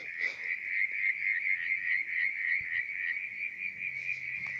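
A night chorus of frogs at a mountain lake keeps up a dense, unbroken high trill, close and steady, with a few faint low croaks near the end and no voices.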